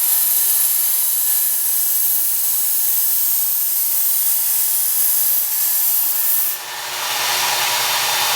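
A very dull knife ground on a slow-running Work Sharp Ken Onion belt sharpener gives a continuous high, gritty abrasive hiss over a low motor hum, dipping briefly near the end.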